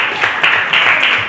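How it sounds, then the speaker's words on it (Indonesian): Applause fills a classroom after a student talk-show role-play, with a dense, steady patter of many hands clapping close and loud throughout. "Tepuk tangan untuk kita semuanya."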